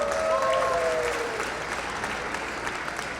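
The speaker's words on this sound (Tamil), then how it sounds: "உங்கள் கரகோஷங்களை அர்ப்பணிக்க வேண்டுகிறோம்" Audience applause after a grand choral performance by many singers at a Tamil skit show, a dense steady wash of clapping from a large crowd, loud throughout and fading slightly toward the end.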